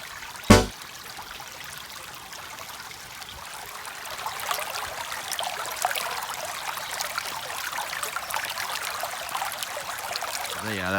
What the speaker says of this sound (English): Little creek coming out from underneath the trees and the palms.